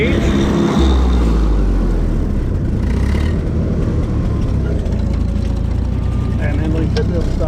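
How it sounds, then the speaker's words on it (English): A utility tractor engine running loud and steady up close, a continuous low drone that fills the whole stretch without pause. "And then we should be able to stop the tractor."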